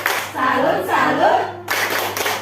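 A group claps in a quick rhythm alongside loud chanting voices, then a burst of clapping continues near the end, during a school teachers' gathering in Indonesia.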